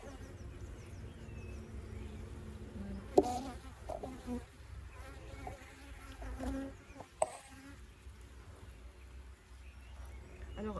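Honeybees buzz around a freshly built hive frame, a dense, continuous droning hum of many insects close by, with occasional sharper knocks and handling noises over it.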